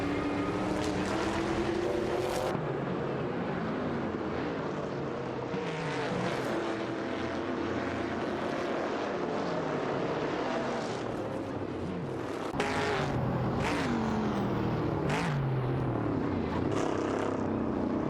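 Racing video game with a field of cars including a 1971 Ford Torino and an AMC Matador, engines droning continuously at high revs with pitch sweeps and shifts, steady and loud, with no voices.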